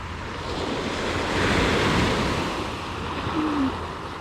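Ocean surf rolls onto the shore of Cuttyhunk Island under steady wind, a broad continuous wash that swells and eases, with wind buffeting the microphone.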